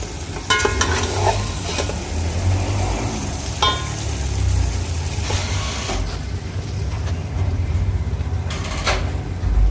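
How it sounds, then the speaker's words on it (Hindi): Fish coated in masala fries in a pan, a steady loud sizzle running throughout with occasional scrapes and stirring clatters of a utensil against the pan, no talking. "इस तरह से हम इसको थोड़ी सी फिश को भूनेंगे।"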